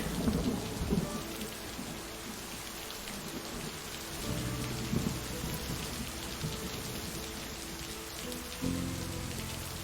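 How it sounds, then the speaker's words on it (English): Steady heavy rain patters at a lake while low rumbles of thunder swell and roll several times underneath, a dense continuous wash with no voices. "I am a huge fan of thunderstorms."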